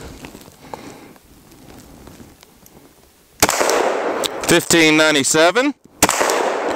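A 10mm Glock model 40 pistol fires several sharp, loud shots outdoors in quick succession, with someone speaking between them after a quiet stretch.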